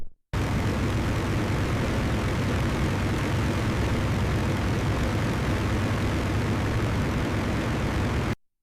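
Propeller engines of B-25 Mitchell bombers flying in tight formation low over the sea, a loud, steady, dense roar that holds unbroken from start to finish with no voices.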